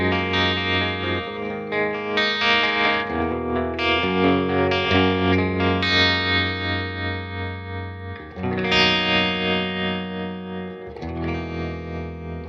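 An electric guitar plays through a Bad Cat Black Cat combo amp with its tremolo engaged. Sustained, effects-laden chords and notes pulse steadily and loudly, with no talking.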